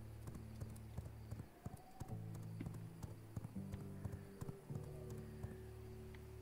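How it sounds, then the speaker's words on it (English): Hoofbeats of a horse trotting in the vampire survival game V Rising, a steady repeated clip-clop over a droning game music bed, with no talk. "Is he faster than my horse trotting?"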